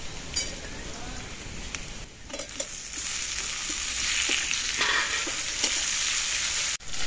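Chopped tomato and onion fry in hot oil tempered with black cumin seeds, giving a continuous close sizzle that grows louder midway, with occasional stirring taps and a sharp knock near the end.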